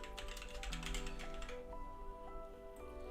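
Rapid keystrokes on a computer keyboard, a steady close clatter of typing that runs through most of the stretch alongside a faint background tone.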